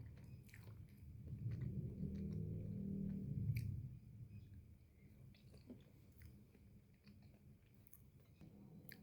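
Close, steady chewing and biting of satay with raw shallots, soft wet mastication running continuously and loudest early on, with no talking.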